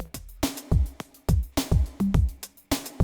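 A loud disco-flavored 80s pop drum groove built from a snare, a hi-hat loop and a drum loop, with punchy low hits and crisp bright snare cracks looping steadily.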